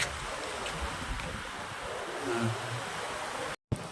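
Wind blows steadily across the Kiltan helipad, a constant roaring rush buffeting the microphone with a brief cut-out near the end.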